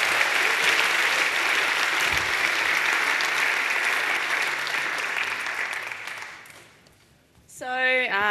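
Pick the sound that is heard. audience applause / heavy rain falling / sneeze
audience applause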